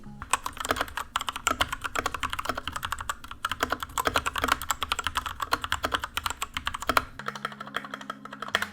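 Rapid clacking keystrokes on a Razer BlackWidow V3 Mini mechanical keyboard, close and continuous, with a low steady hum underneath that shifts near the end.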